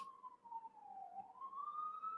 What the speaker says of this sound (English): I hope you guys don't hear the ambulance or fire truck, whatever the heck it is